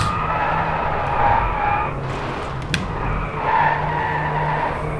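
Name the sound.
racing car interior sound from video game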